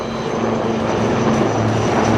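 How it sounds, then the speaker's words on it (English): Indian Air Force Prachand light combat helicopters fly past at the Aero India 2023 air show in Bengaluru, a loud, steady wash of rotor and engine roar with a low hum running through it and no pause. "Next in line are the light combat helicopters Prachand of the Indian Air Force."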